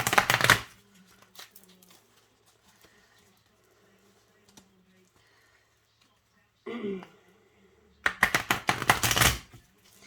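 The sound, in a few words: shuffling tarot cards on cheese board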